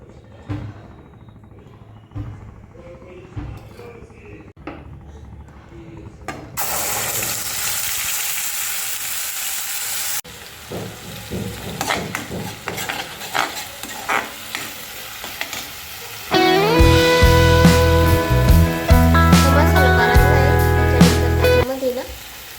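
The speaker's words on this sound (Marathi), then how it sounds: "कढई ना जास्तच तापून गेली आहे त्याच्यामध्ये तेल टाकते मी" Oil hits an overheated kadhai while pav bhaji is being made, giving a loud, dense sizzle that bursts in partway through, then fades into quieter kitchen clatter before music-like tones rise near the end.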